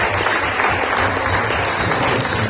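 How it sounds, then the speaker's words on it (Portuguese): A church congregation claps during a worship service, a loud, continuous wall of applause filling the room without pause. "Uma salva de palmas"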